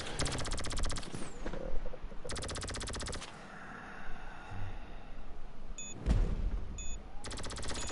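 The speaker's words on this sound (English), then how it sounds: "I would not use that minigun, bud." Minigun fire in GTA 5 Online, long roaring bursts of rapid continuous shots separated by short pauses, loud and close with a few beeps in between.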